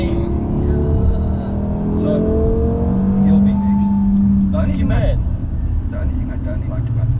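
A car's engine hums and rises steadily as it accelerates on the road, heard from inside the cabin with a continuous low drone under people talking throughout.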